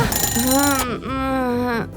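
A phone notification alert rings out loud and close, two rising and falling electronic melodic tones in quick succession, with a brief burst of noise at the start.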